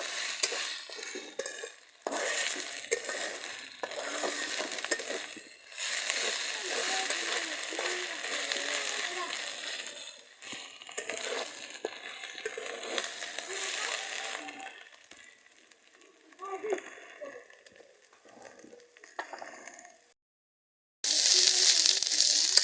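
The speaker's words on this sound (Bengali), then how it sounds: "এটা ডালের সাথে ভালো করে ভেজে নেব।" Lentils with ginger-garlic paste sizzle in hot oil while a utensil stirs and scrapes the pan in bursts, with quieter pauses between; up close, no speech.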